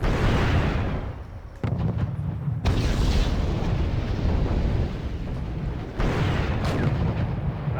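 Artillery fire in the video game Wargame European Escalation, a dense continuous rumble of heavy booms and blasts, loud and sustained with a couple of abrupt shifts in intensity.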